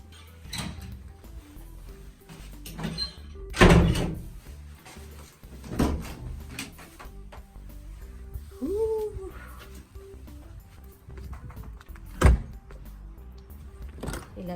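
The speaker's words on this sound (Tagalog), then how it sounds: "Ilalak ko yung pinto." A door being locked at a workplace in the UK: a few sharp metallic clicks and clunks of the lock and handle, spaced apart among quieter handling rustles, close by.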